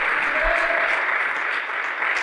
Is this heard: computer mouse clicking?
no